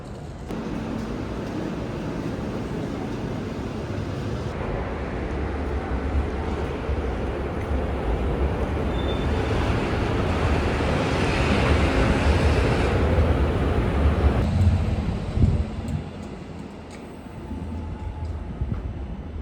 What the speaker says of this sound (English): So I'm finally in the train.